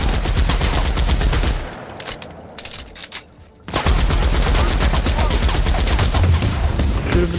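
Rapid, loud automatic gunfire from The Outer Worlds, dense continuous bursts that drop out briefly in the middle before resuming at full intensity.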